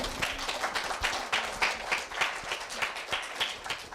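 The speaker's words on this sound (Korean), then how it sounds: "멋진 답변을 해준 이서현 학생에게 큰 박수 다시 한번 부탁드립니다" A school audience applauds a middle-school student's answer at a student speaking festival, with steady, dense clapping from many hands running throughout at moderate loudness, with no voices over it.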